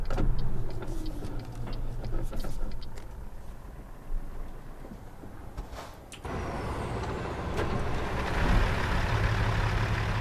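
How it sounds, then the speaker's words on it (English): Truck driving in Euro Truck Simulator 2, a low engine drone with a steady rumble and occasional clicks, the tone shifting partway through as the truck continues on. "So that is it being in Euro Truck Simulator 2."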